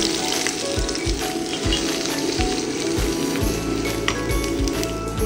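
Loud, continuous sizzling of garlic, mustard seeds, asafoetida, cumin and red chilli frying in hot ghee, with occasional stirring clatter and bubbling, close up and without speech.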